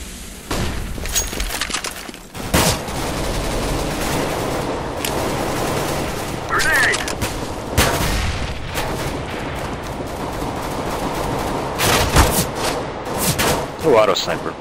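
Rapid gunfire from an auto sniper rifle in the video game CS:GO, played on the Agroprom map. Sharp, loud shots crack over continuous game noise and a talking voice.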